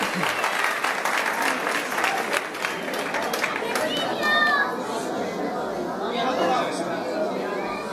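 An outdoor crowd at the Villafruela village festival proclamation claps steadily for several seconds, a dense, even applause mixed with chatter and children's voices.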